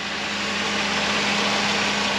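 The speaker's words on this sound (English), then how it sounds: "This is a normal engine operation." The engine of a 1986 Mercedes 560SL idles at normal operating temperature, giving a steady, even hum with a constant low tone and broad hiss, close and unbroken throughout.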